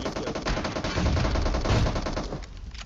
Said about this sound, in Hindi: ना जाने कहां पे ये गोली चला रहा है यार